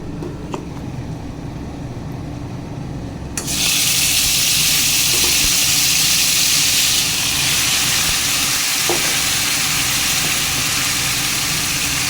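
Mutton sizzling in hot oil, a steady loud hiss that jumps in suddenly a few seconds in and carries on without pause over a low background hum.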